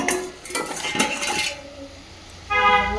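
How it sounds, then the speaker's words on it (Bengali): A pot lid lifts off a pan of tomatoes with metallic clinks and scraping for the first second or so, then a quieter pause and a renewed clatter near the end; no voices. "এবার ঢাকনা খুলে নেব।"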